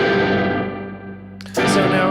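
A guitar amplifier's spring reverb effect rings out with a sustained, washy distorted tone that shifts abruptly near the end into a brighter, splashy burst, loud and continuous without talk.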